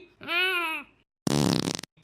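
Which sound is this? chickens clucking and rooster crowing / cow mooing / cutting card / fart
fart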